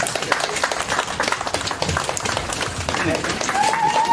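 Applause from a gathered audience at a Catholic schools coordination event in Mwene Ditu, uneven clapping with voices talking over it and a faint whistle-like tone near the end.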